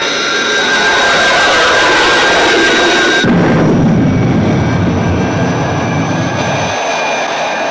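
Chemical rocket engines fire in the Thunderbirds movie, a loud, continuous roar that shifts abruptly partway through into a deeper, rumbling thrust and keeps blasting without voices.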